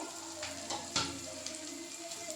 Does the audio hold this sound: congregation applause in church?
no